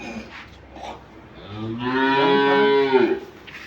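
A dairy cow for sale in Dinajpur, Bangladesh, lets out one long, loud, close moo that rises and holds before trailing off, with faint background noise around it.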